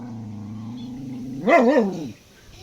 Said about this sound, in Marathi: हे बघा शेजाऱ्याचं कुत्रा आलाय